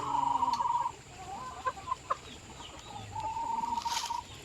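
Chickens cluck and call softly in a farmyard, with a couple of drawn-out calls and a few short clucks, fairly quiet against background noise.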